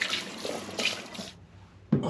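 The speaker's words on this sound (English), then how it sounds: "Time to give them a quick shower in the sink." Empty wine bottles from a gooseberry and apple home brew are rinsed under a sink tap, with bursts of running water and splashing, a brief pause, then another sudden splash.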